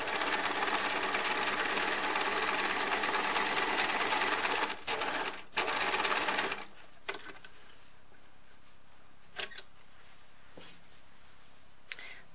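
A sewing machine stitching a chimney placket at regular stitch length runs in a steady rapid whir for several seconds, then stops, followed by a few faint clicks and taps.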